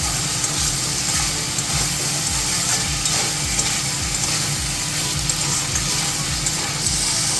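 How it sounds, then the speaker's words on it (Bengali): Fried kochia fish being sautéed in spice masala in a pan, a dense continuous sizzle with a steady scraping stir pulsing underneath, close and loud throughout. "মাছগুলো আমি মশলার সাথে ভালোভাবে কষিয়ে নেব"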